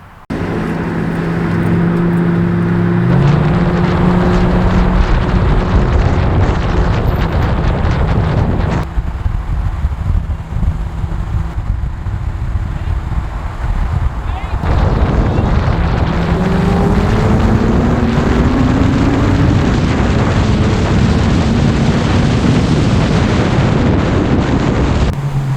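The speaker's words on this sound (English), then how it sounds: "Sound a lot better when Tom puts exhaust on it Friday" Car engine and exhaust while driving on a local road, a loud continuous drone with engine pitch rising and falling through gear changes, heavy wind buffeting throughout, and no talking.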